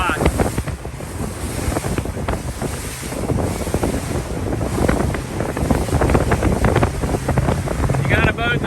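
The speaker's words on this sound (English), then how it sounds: "Mark, that is your Florida Wildlife Commission boat coming up" Loud wind buffets the microphone over rushing waves and the droning engine of an approaching Florida Wildlife Commission boat near Matanzas, St. Augustine, with some muffled voices underneath.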